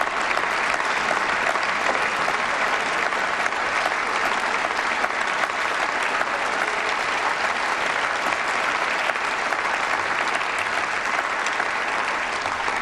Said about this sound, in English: those standing at the Munich rail station applauding and welcoming refugees